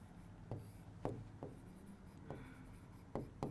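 A marker or chalk writes on a board during a Hindi-medium botany lecture, with about six quick, faint strokes and taps spaced irregularly against a quiet room.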